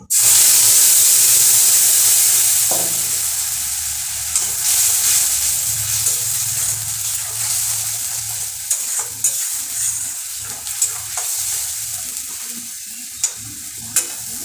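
Spice paste for katla fish kalia hitting hot oil with a loud burst of hissing sizzle that gradually settles into steady frying, punctuated by scattered spatula scrapes and clinks close by.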